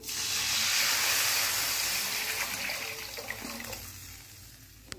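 Cow's milk is poured onto fried rice in a hot pan, setting off a loud, hissing rush of steam and sizzle that gradually subsides into a fainter bubbling spatter.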